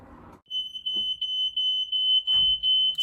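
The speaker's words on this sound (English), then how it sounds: "Don't know what we're going to do with this fire alarm." A home smoke-detector fire alarm shrills a steady, piercing continuous beep that runs unbroken from near the start, with brief rustles and a voice murmuring beneath it.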